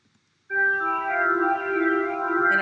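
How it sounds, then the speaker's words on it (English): Liquid Dreams synth patch from Logic's ES2 with flanger, delay and limiter, holding a sustained bright, harmonically rich tone that swells in cleanly and rings steadily with slight movement, alone. "Liquid Dreams sounds like this."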